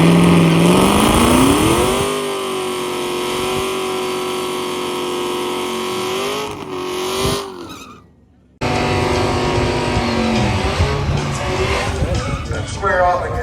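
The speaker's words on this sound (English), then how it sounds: "the 2 race cars are racing each other" Two drag race cars launch down a new drag strip, their engines roaring loud and close with a pitch that climbs as they accelerate, dropping out briefly near the end before the roar resumes.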